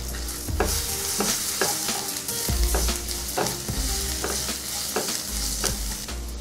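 Turmeric and ginger-garlic paste are stirred into hot oil with curry leaves in a frying pan, giving a steady sizzle broken by rhythmic spoon scrapes and knocks, close and fairly loud.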